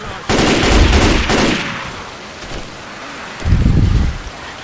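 Bursts of automatic gunfire in the zombie shooter game Left 4 Dead 2, two loud sustained volleys near the start and another near the end, with a duller crackling gap between them.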